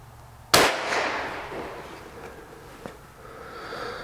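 A single sharp rifle shot cracks loudly near the start, fired from an antique rifle fitted with a Lyman tang peep sight, followed by a ringing decay and a faint metallic clack.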